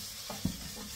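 Onions and tomatoes cook in a pan with turmeric for dry chicken, giving a faint, quiet sizzle broken by a couple of soft stirring scrapes over about a second.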